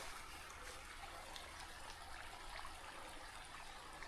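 Creek water trickles and burbles steadily for the whole stretch, a soft, even wash of running water with no voices.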